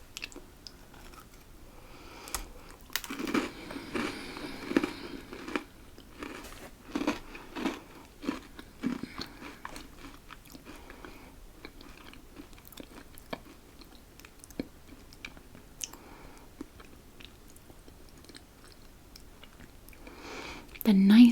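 Someone bites and chews homemade-style biscuits close up, with crisp crunches bunched early and then softer, sparse chewing sounds spread over a long quiet stretch.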